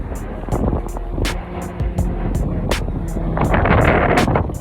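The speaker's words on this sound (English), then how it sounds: "So all this wind didn't ruin my tunes." Outdoor wind blowing steadily against the microphone, a continuous rushing roar with intermittent gusty buffeting and faint rattling throughout.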